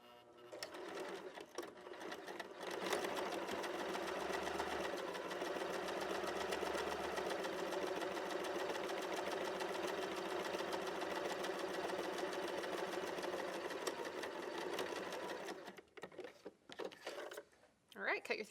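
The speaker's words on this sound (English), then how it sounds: "just place the edge of your fabric on 5/8 of an inch and start sewing your seam" A domestic sewing machine stitches a 5/8-inch seam joining two pieces of fabric, a steady close whirring hum that runs almost unbroken for about twelve seconds before stopping, with brief handling noises at either end.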